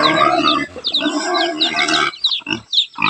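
A large pig grunts and squeals loudly up close in rough, repeated bursts, with a voice speaking briefly among the animal noises.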